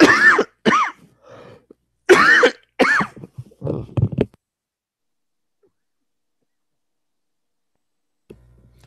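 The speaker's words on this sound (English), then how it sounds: "this cough won't go away" Several harsh, wet coughs and throat-clearing bursts in close succession up front, followed by a long stretch of silence.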